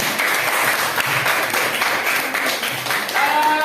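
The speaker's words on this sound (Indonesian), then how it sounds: "tepuk tangan sekali lagi untuk kalian" Classroom applause for students who presented, a dense, fairly loud patter of clapping hands with faint voices mixed in and a brief tonal sound near the end.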